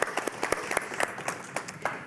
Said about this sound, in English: so a round of applause for Aaron.